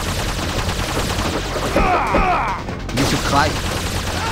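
Rapid, continuous gunfire and blasts from the PSP game The Red Star fill the scene, loud and dense, with voices speaking over the barrage.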